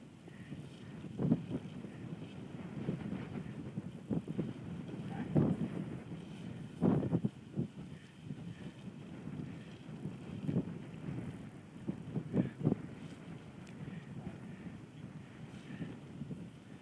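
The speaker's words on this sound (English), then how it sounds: "Ooh, a lot of wind." Strong gusty wind buffets the microphone during high-wind kiting outdoors, with low rumbling blasts swelling and fading irregularly across the whole stretch, loud and near, with no clear voices.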